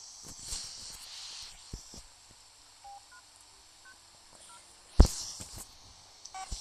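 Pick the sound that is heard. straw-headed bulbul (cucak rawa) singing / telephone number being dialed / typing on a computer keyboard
telephone number being dialed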